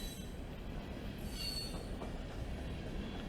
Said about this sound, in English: this train is heading southbound from Chattanooga towards Stevenson